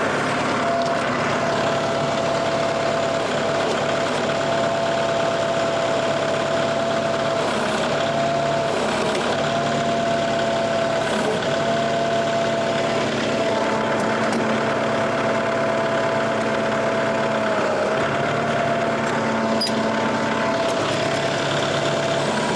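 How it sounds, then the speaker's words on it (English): An engine runs steadily on the machine lifting pallet forks, a continuous loud drone with a faint hum that holds at a constant level throughout, close by and without talk. "All right, let's get these forks up."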